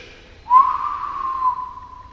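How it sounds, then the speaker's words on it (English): A whistle is blown once in a single sustained, steady tone lasting over a second, fairly loud and close, during a ghost-hunting session with no talking. "We just try the whistle again."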